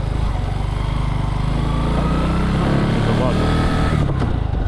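A Bajaj Boxer BM150 motorcycle engine drones steadily at close range while riding a forest trail, a continuous buzzing rumble with slight shifts in pitch and no pauses.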